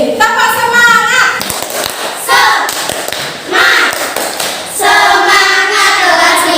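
A class of fifth-grade schoolchildren claps in rhythm during a chant, with bursts of sharp hand claps and thumps alternating with the children's chanting voices throughout.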